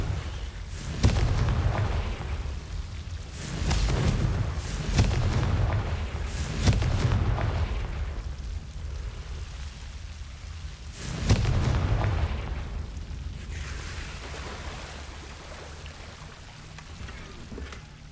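Spell explosions from the Confringo curse in the Hogwarts Legacy video game, several heavy booming blasts with rumbling low end spaced over game ambience, no talking.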